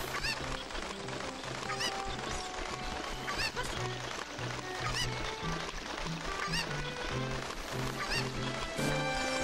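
A steady game music loop plays loudly with a cucco chicken from Zelda Ocarina of Time Master Quest clucking and squawking faintly in places beneath it, continuing throughout.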